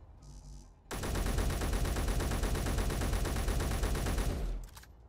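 Rapid sustained weapon fire at a ship in the space game Space Engineers starts abruptly and roars as a dense, loud burst for about four seconds before cutting off.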